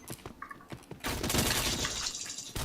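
In the shooter Point Blank, faint clicks give way to a sudden loud, dense burst of gunfire that runs for the rest of the moment, sharp and close with no voices.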